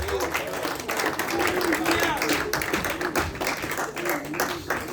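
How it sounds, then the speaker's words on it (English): A crowd claps steadily while voices call out over it, the clapping dense and continuous throughout. "Clap your hands for Jesus."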